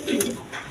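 A brief, soft coo from high-flying Giribaz pigeons, a single low rolling call close by.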